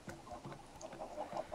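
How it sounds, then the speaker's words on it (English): Chickens cluck in a pixelated survival video game with a chicken farm, giving soft, repeated short clucks in an irregular rhythm, moderately near but faint, with no talking. "I just heard a chicken lay an egg."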